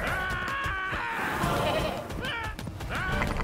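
Sheep in the video game For Honor bleat repeatedly with loud, wavering cries that overlap one another against steady game background noise.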